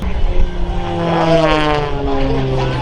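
An aerobatic airshow plane tumbles through manoeuvres, its engine and propeller droning loud and close with pitch sweeping up and down as the power shifts, a brief voice at the start.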